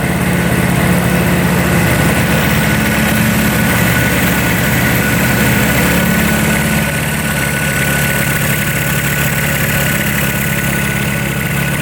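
A 1976 two-stroke motorcycle engine idles loudly and close up, a rough, buzzing, steady putter that holds without pause and with no speech.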